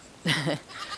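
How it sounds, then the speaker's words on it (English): One loud goat bleat, a single wavering cry about a third of a second long, nearby on a farm, followed by a quieter trailing call and faint background noise. "and that's Goat 10."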